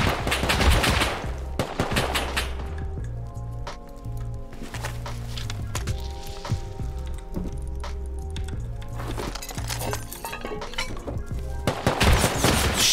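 Rapid automatic gunfire from the video game Rust rattles in repeated bursts, loud and near at the start and end with quieter stretches between.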